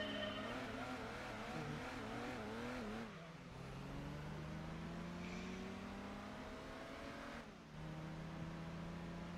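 Several Toyota Celicas race in a video game, engines revving and shifting through gears up close, with a brief lull and gear change midway before the engine note climbs again.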